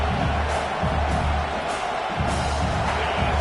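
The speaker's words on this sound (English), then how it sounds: "This crowd trying to make life miserable for this offense." A stadium crowd in the CFB25 college football video game keeps up a constant roar of cheering and noise, a broad wash of sound with small swells.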